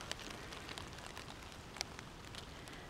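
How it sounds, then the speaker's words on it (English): Heavy rain falling outdoors on a damp October day, a dense, even hiss of drops with scattered sharper pattering taps, fairly faint and steady throughout. "Now the rain's really coming down."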